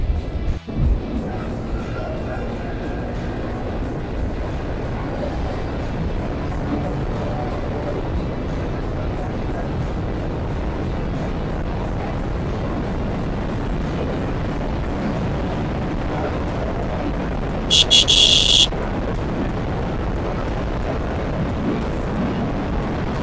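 A Yamaha R15 v4 motorcycle runs at top speed on a road in Silchar, its engine roar buried under heavy, continuous wind rush across the microphone, with a brief sharp high tone near the end.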